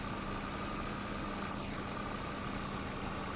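A tractor engine runs steadily in a farming video game, a constant low drone with no change in load, heard alone at moderate level throughout.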